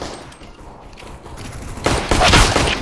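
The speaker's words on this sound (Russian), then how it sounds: "Ой, меня стреляют." Gunfire in the video game CS:GO breaks out partway through, a loud dense burst of rapid shots that builds after a quieter stretch of game ambience.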